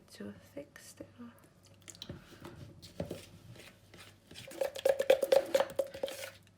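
A spoon stirs thick icing for cinnamon rolls in a bowl: soft scraping at first, then a quick run of close, sharp clinks and scrapes growing louder toward the end.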